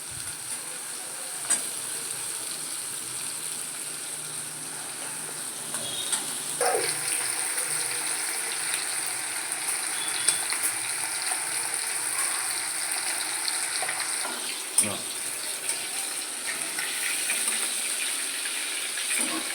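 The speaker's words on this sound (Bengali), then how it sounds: "চিংড়ি মাছটা ভাজা করে নিচ্ছি।" Prawns frying in oil in a pan give a continuous bright sizzle with a few sharp clicks of stirring, close and steady for about twenty seconds.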